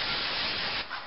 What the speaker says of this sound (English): and give it a bit of a spray.